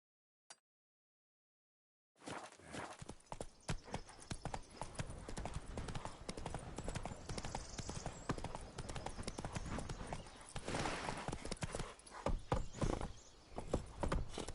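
Roach, the horse in The Witcher, trots with rapid, crisp clip-clop hoofbeats that begin after a brief silence and keep up a steady close rhythm, with a faint whinny among them.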